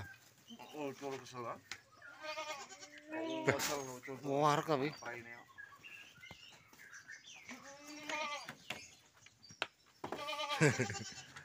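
Several goats bleat repeatedly at close range in an unusual goat pen, their wavering cries overlapping with scattered rustling and brief voices throughout.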